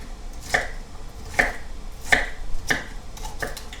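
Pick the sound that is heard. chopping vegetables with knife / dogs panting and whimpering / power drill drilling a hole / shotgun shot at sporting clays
chopping vegetables with knife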